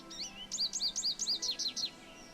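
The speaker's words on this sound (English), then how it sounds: "So this is the cassette player, the bird sounds. American goldfinch." A quick series of about eight bright, high chirping notes, an American goldfinch's sweet twittering song played on a cassette player in Nancy Drew: Ghost Dogs of Moon Lake, clear and close against a faint steady background.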